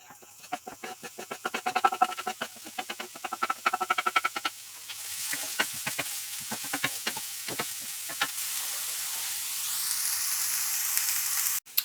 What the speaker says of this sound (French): L'huile là, elle est bien chaude, on va pouvoir y verser l'oignon et l'ail.